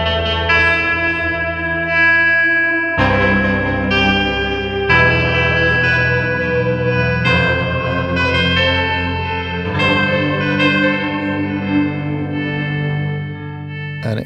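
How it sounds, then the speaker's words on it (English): Sounddust's hybrid Pendleonium is played through effects, giving a loud, sustained harmonic tone that shifts in several distinct swells and re-attacks. Distortion, echo and chorus-like shimmer run throughout, and no one speaks. "It was actually the first Sounddust hybrid instrument"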